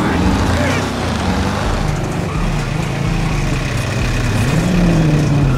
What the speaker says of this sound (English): Car sound bad though.